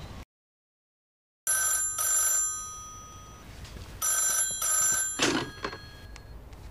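An old telephone in a department store rings with a bright electric bell in two long bursts separated by a pause, loud and close, with a soft thump and faint room noise between rings.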